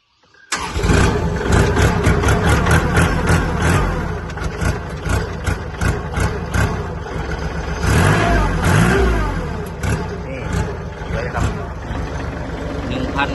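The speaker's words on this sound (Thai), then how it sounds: "เดี๋ยวผมพามาติดเครื่องเบิ้งนะครับ" A Kubota L3608SP tractor engine starts abruptly and then runs loud and close, with the diesel revving up and down steadily for the rest of the stretch.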